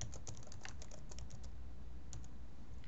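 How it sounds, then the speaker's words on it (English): Someone types a message on a computer keyboard, producing quick, light, irregular key clicks close to the microphone in an otherwise quiet room. "we come down here in the box and you type out a message."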